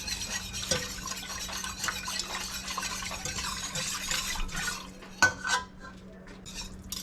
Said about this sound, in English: We're going to whisk it in and try and make sure that we whisk.